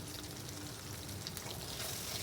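Refined oil and ghee hiss and sizzle steadily in a hot pan of oil left from frying hilsa fish, a constant crackling wash without talk.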